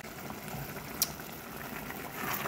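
Laing, taro leaves simmering in plenty of coconut milk, bubbles in a pot with a soft, steady, close boil and one sharp clink partway through.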